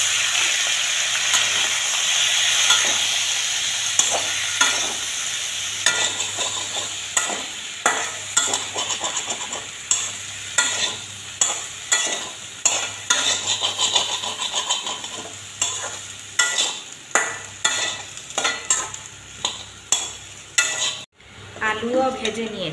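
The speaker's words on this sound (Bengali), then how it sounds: "আলুও ভেজে নেব।" Potatoes fry in a pan with a constant sizzle, while a spatula scrapes in quick repeated strokes, loud and close, before a brief drop near the end.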